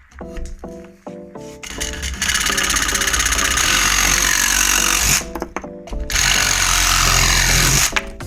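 A Parkside reciprocating saw cuts in two loud, sustained buzzing bursts separated by a short pause, with a few brief stuttering starts at the beginning, close up and with no talking.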